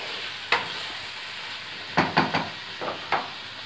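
Chicken sizzles in a pan while being browned for Delhi-style chicken korma, a soft steady hiss broken by several sharp scraping stirs, close up and without talk.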